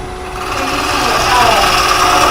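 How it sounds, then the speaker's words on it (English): A bench grinder shapes a homemade tool from carbon steel, a steady high whine of the motor with grinding noise building slightly over a couple of seconds, close and loud. "An old screwdriver would do the job. Just on my grinder."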